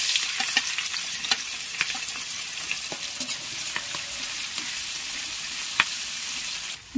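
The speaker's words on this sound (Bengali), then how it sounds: "ওই তেলের মধ্যেই আমি দিয়ে দেব রসুন কুচি, এরপর দিয়ে দেব আদা কুচি," Chopped garlic, ginger and onion frying in oil for restaurant-style chilli chicken, with a steady close sizzle and scattered scraping and stirring clicks throughout, and no voices.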